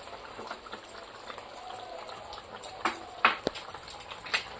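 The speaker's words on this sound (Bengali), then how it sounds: "আরেকটু ঘি দিয়ে দিচ্ছি।" Ghee dropped into a simmering Bengali banana flower curry, mochar kalia, gives soft bubbling with a few sharper spoon clicks and splashes toward the end, faint and close.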